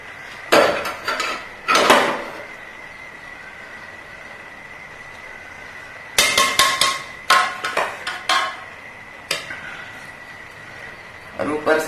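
Dry rice grains being tipped into a pot while making Sindhi chicken biryani, heard as several bursts of rattling, scraping pours with metallic clatter, separated by quieter gaps in a home kitchen.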